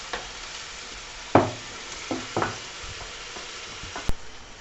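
Red wine and beef reducing in a pan for chilli con carne, a soft steady simmering hiss broken by a few distinct stirring scrapes and clanks, fairly quiet and close.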